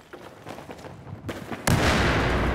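Video game gunfire, a short burst of shots at moderate distance ending in a sudden loud, sustained blast of noise, with no talking.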